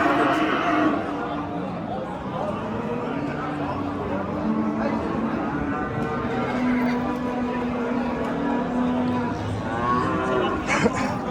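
Cattle mooing in the cow row at the Oqtepa livestock market in Bulung'ur district, with long low lowing calls rising over a steady crowd murmur and nearby animals; voices talk throughout.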